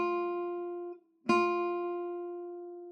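A nylon-string classical guitar string is plucked with the fingernail straight on: one ringing note decays, a brief gap follows, then a second bright pluck sustains and slowly fades, close and clear with no talking.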